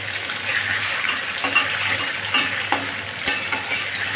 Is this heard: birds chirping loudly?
no